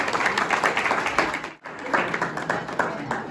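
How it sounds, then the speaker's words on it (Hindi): Applause welcoming a school principal at a farewell ceremony, dense steady clapping from a crowd filling the whole stretch with a brief dip midway. "जोरदार तालियों के साथ प्रधानाचार्य जी का स्वागत।"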